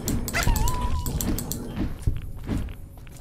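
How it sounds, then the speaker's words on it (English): Robot dogs in the video game Fallout: New Vegas, giving short yips, a whining electronic tone and barks amid thumping combat noise, close and fairly loud. "I'm having to fight against an army of robo dogs."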